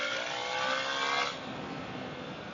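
BMW R 1300 GS adventure motorcycle with automatic shift assistant downshifting, engine note dropping in a steady whirring drone with a wind-buffeted rush that eases after a second, continuous and close.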